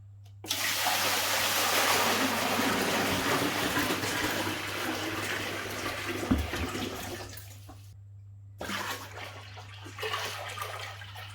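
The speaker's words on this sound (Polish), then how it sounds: "Już zalewam akwarium wodą." Water gushes and pours steadily into an aquarium for several seconds, loud and close, then tapers off before a brief quieter splash of flow resumes.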